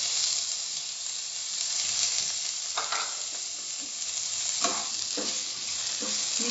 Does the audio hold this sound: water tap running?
no